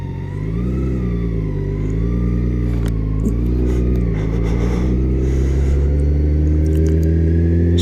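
A motorcycle engine idling low around 1500 to 2000 RPM while gears are shifted without the clutch, a steady close drone with small dips in pitch at each shift and a few light mechanical clicks.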